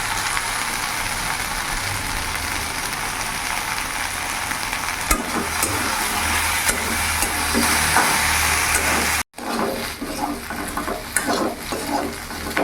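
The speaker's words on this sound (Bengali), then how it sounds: "এখন আরো কিছুক্ষণ ভাজতে হবে" Okra (bhindi) fries in a pan over medium gas for a dhaba-style masala fry, a dense, continuous sizzle heard up close, interrupted by a brief cut before the crackling resumes slightly busier.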